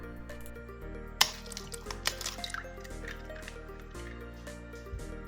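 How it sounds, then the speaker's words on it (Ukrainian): Eggs cracked one at a time into a bowl for muffin batter: a single sharp crack followed by soft wet drips and squishes, all fairly quiet beneath steady background music. "Беремо 5 яєць та вибиваємо в миску."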